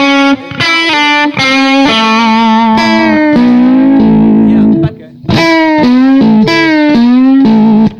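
Distorted electric guitar with effects plays sustained notes, bending pitches down toward a gritty third, in several loud phrases with brief gaps, alone with no talk.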